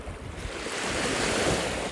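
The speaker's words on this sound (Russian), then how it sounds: "Немножко шум моря послушайте" Sea waves wash onto the shore by a white dune in Pabaži, Latvia, a continuous broad rush of surf mixed with wind buffeting the microphone.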